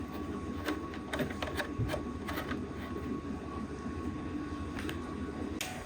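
A Focus Starfire 62U roll-to-roll UV DTF printer with built-in laminator runs steadily, giving a constant mechanical hum and drone with repeated brief clicks and ticks from its moving parts, close and alone without voices.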